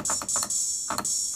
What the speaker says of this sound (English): secondary snare,